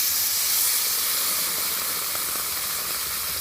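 Water poured into a hot cooking pot over a village kitchen fire gives a steady, loud steaming hiss that holds evenly throughout with no voices.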